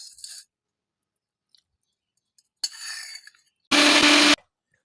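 A kitchen grinder whirs in a single short, loud burst of under a second, blending tender coconut flesh with coconut water, after faint rustling and handling noises.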